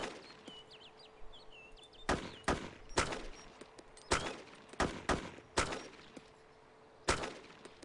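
Two players fire rifles at a distant bandit in a video game, about a dozen sharp separate cracks spaced irregularly over several seconds, some in close pairs, with faint birdsong between shots.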